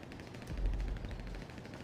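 A quick burst of faint gunfire rings out in GTA Online on PC, with a soft low thump in the middle of the shots and nobody talking.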